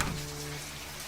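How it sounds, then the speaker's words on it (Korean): Steady rain falling outside an enclosed space in a horror drama, a soft continuous hiss at low, even loudness throughout with no voices. "그때 SCP-3333 바깥에 비가 내리기 시작했다."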